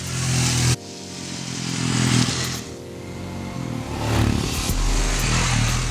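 A Royal Enfield Himalayan motorcycle engine roars loudly past on the Chennai racetrack, cuts off abruptly, then rises again as the bike accelerates and revs hard.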